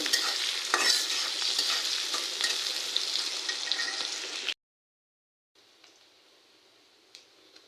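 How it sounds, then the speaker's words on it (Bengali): Green chillies and onion fry in oil in a wok, a steady close sizzle with stirring scrapes that cuts off abruptly, followed by a quieter faint hiss after a short silence. "যে পালং শাক রান্না করবো তার জন্য কাঁচামরিচ পেঁয়াজ তেল কড়াইতে দিয়ে দিচ্ছি"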